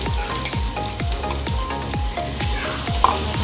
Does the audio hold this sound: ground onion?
yes